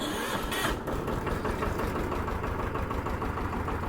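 A tractor engine idles on a farm field, a steady low mechanical rumble with a faint knocking pulse, continuous and close, with a brief brighter burst of noise near the start.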